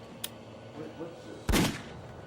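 A single sharp gunshot from a .22 caliber rifle inside a house, short and fairly close, heard over a low murmur with a faint earlier click.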